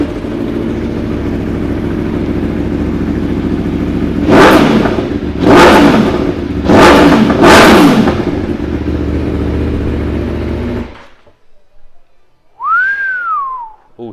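A warmed-up 2018 Aprilia Tuono 1100 V4 Factory motorcycle with a quick shifter and straight bars idles loudly and then gives four sharp revs. The engine cuts to near silence, followed by a short rising and falling whistle.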